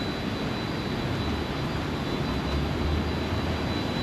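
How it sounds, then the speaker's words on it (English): A riverboat taxi ferry passes along a Bangkok canal, its engine a loud, broad roar that fills the scene at close range and holds steady with no voices over it. "And here comes another ferry"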